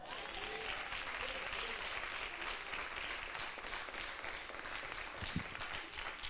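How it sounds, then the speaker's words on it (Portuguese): A church congregation at a Portuguese-language business worship service claps hands in praise, a steady, fairly distant wash of applause with a faint voice and a brief thump near the end. "Louva o Senhor com as suas palmas."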